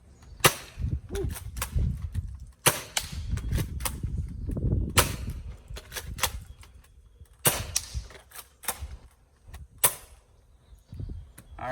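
Shots from an X-Shot Fury X foam dart toy blaster: sharp snapping pops fired in irregular bursts, each with a brief rattle of the mechanism, close by, with some low handling noise between shots.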